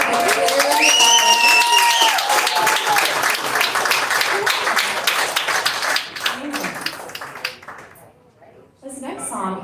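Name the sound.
audience applause for a songwriter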